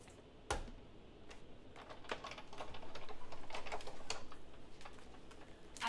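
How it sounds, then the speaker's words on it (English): A die cutting machine cuts card shapes for a handmade thank-you note set, giving a steady crunching, clicking run of rolling and pressing sounds at close range, with no talk. "I will bring in my die machine now, and we can cut these out."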